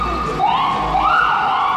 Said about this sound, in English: there will be like sirens any time of day